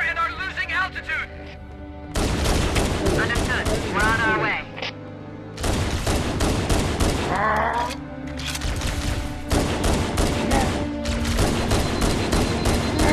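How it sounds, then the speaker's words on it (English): Heavy gunfire around a dropship in the game Halo: Anniversary, dense bursts of automatic fire and booms alternating with short gaps, with radio-style voices talking between and over the shooting. "we are under heavy fire and are losing altitude"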